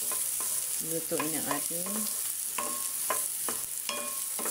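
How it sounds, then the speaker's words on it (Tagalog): Onion and garlic sauté in a pan with a steady, close sizzle, and short bursts of stirring and scraping break through it. A voice talks over the cooking. "igisa lang po natin ang sibuyas at bawang, mga friends."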